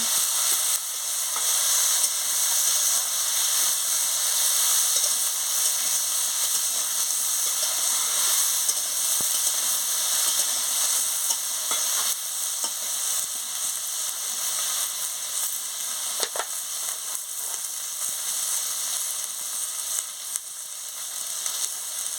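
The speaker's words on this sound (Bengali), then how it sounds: "বেগুন দিয়ে দিচ্ছি দিয়ে ভালো করে আনাজটাকে কষিয়ে নিচ্ছি" Brinjal and mixed vegetables frying in a pan for a Bengali kakrol chorchori, a steady close sizzle with faint scrapes of stirring running throughout, no voices.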